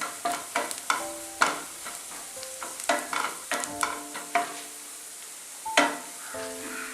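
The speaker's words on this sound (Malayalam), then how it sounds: "അപ്പോൾ ഈ പൊടികളൊക്കെ നന്നായിട്ടൊന്ന് എണ്ണയിൽ കിടന്നൊന്ന് മൂത്ത് വരണം." Chili powder and garam masala fry in oil for a Malabar chicken filling, with soft sizzling under frequent spoon scrapes and clinks against the pan in an uneven rhythm.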